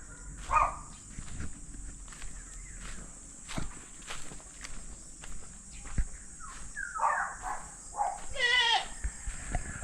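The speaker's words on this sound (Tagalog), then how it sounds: "yung kambing ah." A few goat bleats ring out amid footsteps and rustling outdoors, scattered and moderately near.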